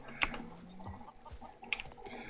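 A chicken in the Minecraft video game gives two short, sharp clucks about a second and a half apart over quiet game background.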